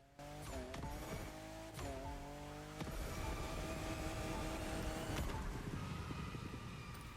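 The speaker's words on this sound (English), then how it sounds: "all you will then have to do is like drift back and forth, and of course use your nitrous" A car drifting in The Crew Motorfest racing game, engine roaring steadily with rising and falling revs and continuous tire squeal as it slides back and forth.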